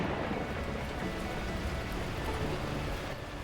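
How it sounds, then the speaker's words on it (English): Torrential rain in the video game Beacon Pines roars as a dense, steady wash of noise that stays at an even, loud level for the whole stretch, with no voices. "the heavens opened up, unleashing torrential rain"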